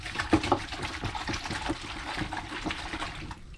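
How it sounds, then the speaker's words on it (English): Gloved hands dip into a container of water in a boat yard, giving soft, close sloshing and dribbling splashes, a few brighter plops near the start, then quieter trickling. "Next thing I'm gonna do is dip my hands in some water."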